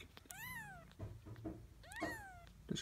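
Young kittens whose eyes have just opened mew in two shrill, rising-then-falling cries, close and loud, with small soft bumps and rustles in between.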